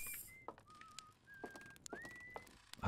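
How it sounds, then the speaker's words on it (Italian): A character in the game Outer Wilds whistles a slow, wavering tune of sustained notes, faint and close, over light ambient clicks and taps in an otherwise quiet setting. "A parte lui che fischietta, c'è il silenzio più totale qui."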